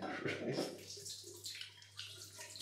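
Warm water runs from a tap before wetting the face for a shave, a short, faint, gurgling splash.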